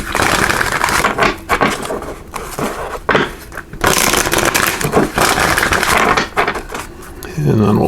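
Tarot cards riffle and slap together in repeated bursts of crisp, close shuffling with short pauses between them, loud and dry.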